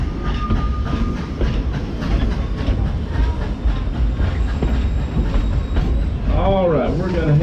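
The Dollywood Express, a steam train at the Dollywood theme park, rolling along with a steady rumbling clatter of wheels on track and wheel squeals near the end, heard from on board at close range.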